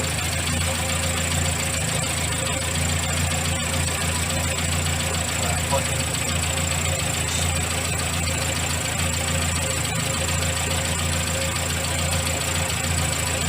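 A vintage Morris Minor car engine idles steadily with a low, even rumble and a faint ticking rhythm, close by and continuous throughout, with no talk over it.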